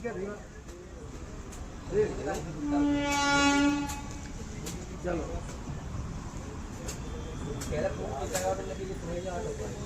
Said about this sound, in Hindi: सामने से आ रही है हजरत निजामुद्दीन रायगढ़ गोंडवाना एक्सप्रेस